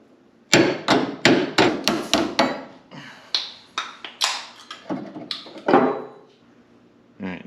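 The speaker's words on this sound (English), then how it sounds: "this pin is gonna drive out the top." Sharp hammer blows drive a hinge pin out of a Chevrolet C-10 truck door hinge, about a dozen loud, close metallic strikes in quick irregular bursts, followed by scattered lighter taps.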